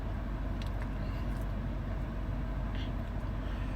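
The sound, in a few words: highway traffic, vehicles passing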